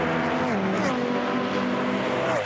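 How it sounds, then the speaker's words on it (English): GT race cars at the 2011 Australian GT Championship in Adelaide roar past on the track, a loud high-pitched engine howl with shifting tones as several machines blend and sweep by in quick succession. "Love hearing the mixture of machines in GT racing"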